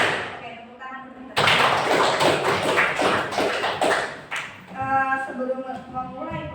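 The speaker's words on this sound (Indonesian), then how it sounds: "Oke, tepuk tangan dulu." A ninth-grade junior high science class breaks into sustained applause, a dense, loud wash of many hands clapping together for a few seconds, with the teacher's voice before and after.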